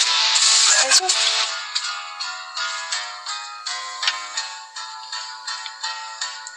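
A phone rings with a bright electronic tone in a series of repeated pulses, loud at first then settling into a steady rhythmic pattern, heard alone with no talking.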